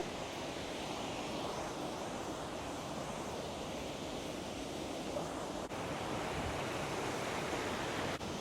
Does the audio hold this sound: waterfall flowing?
yes